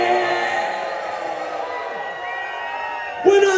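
A concert crowd cheers and whoops, loud at first and then tapering off, before a sharp burst of shouting at the very end.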